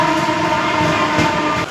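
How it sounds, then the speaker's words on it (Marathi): The Siddheshwar Udyan Express arriving from Solapur rumbles loud and close at a station platform, a steady heavy hum with a faint whine, briefly dipping at the very end. "ट्रेन सोलापूरवरून आली आहे,"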